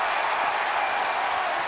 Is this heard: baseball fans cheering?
yes